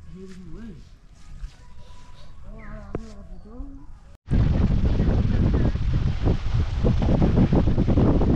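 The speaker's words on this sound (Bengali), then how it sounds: "বাবা কি হাওয়া গো" Strong wind at a Belari campsite on a very cold night. A voice talks briefly at first, then a loud, continuous roar of wind buffets the microphone up close for the remaining seconds.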